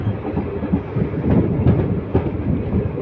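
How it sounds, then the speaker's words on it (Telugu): The Simhadri Express pulls out of Nuzvid station with a steady, loud rolling rumble and faint clattering of the wheels, heard from on board with no voices. "మన ట్రైన్ న్యూజివీడ్ స్టేషన్ నుండి అయితే బయలుదేరిపోతుంది."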